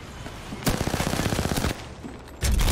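Automatic weapon fire in the Apex Legends battle royale game: a sustained burst of rapid, evenly spaced shots lasting about a second, followed by a quieter pause, then a second loud burst starting at the end.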